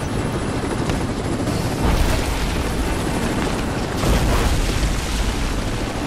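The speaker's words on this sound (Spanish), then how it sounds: "Otra vez a enfrentarnos a este helicóptero." A helicopter in the video game Rise of the Tomb Raider roars loud and steady with a dense, rumbling rotor wash that swells twice, filling the scene with no voices.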